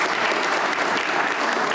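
An audience applauds continuously during a German talk, with dense, steady clapping at a fairly loud level throughout and no voices.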